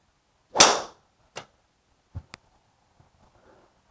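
A Callaway Epic driver strikes a golf ball with one sharp, loud crack, followed by a few fainter knocks and light rustles.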